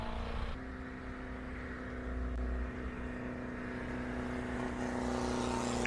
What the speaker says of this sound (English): That little 750cc is pumping itself to get up the hill.